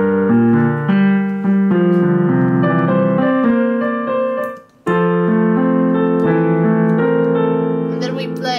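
Piano plays a passage of a song from La La Land, loud and close, with sustained chords and melody notes and a brief pause midway.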